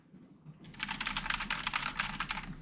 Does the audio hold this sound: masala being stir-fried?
no